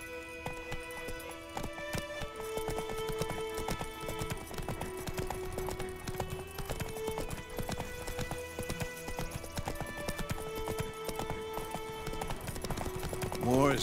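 Hooves clip-clop in a quick, steady rhythm as a rider spurs a horse on in The Witcher 3 video game, with a musical score droning and voices talking over the hoofbeats.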